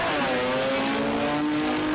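A Datsun race car fitted with a 13B rotary engine roars loudly and steadily at close range, its high buzzing rotary tone holding for two seconds at a jamboree drag event.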